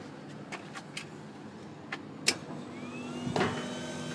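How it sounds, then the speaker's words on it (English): A refrigeration compressor in a four-compressor pack kicks in with a sudden thump and hiss, then a steady low hum, after a few scattered electrical clicks and ticks. "compressor just pulled in"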